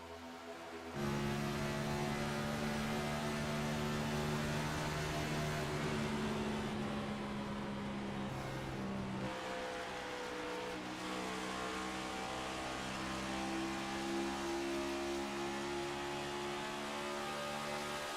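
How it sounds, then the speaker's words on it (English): A race car engine in a racing video game, held at a steady high pitch while drafting close behind another car at Charlotte Motor Speedway, a sustained loud buzzing drone that shifts pitch slightly partway through, with no talk. "you can hear the throttle fry as he is behind the 54 machine here"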